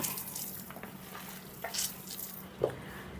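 Cooked rice is mixed with batter by hand after water is sprinkled over it, giving faint, soft, wet squelching and rustling close by, with one brief slightly louder squish.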